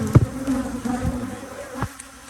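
Honey bees buzz around a hive, a close, steady droning hum with individual insects passing near the ear.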